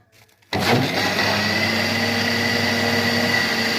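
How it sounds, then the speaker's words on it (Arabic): A blender motor starts abruptly and runs at a steady, loud whir mixing milk, water and flour into crepe batter, with a constant drone, no voices over it. "ونضربهم في الخلاط مع بعض"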